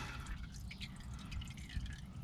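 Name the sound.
motor oil draining from Ford E150 into drain pan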